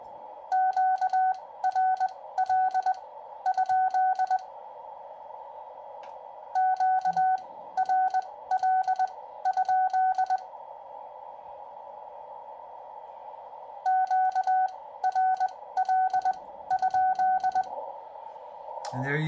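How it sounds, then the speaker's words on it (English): Morse code CW keyed from a K3 amateur radio transceiver at about 50 watts: bursts of steady sidetone beeps in rhythmic dot-dash groups, separated by pauses, over a constant low hum. "I'm going to send some CW."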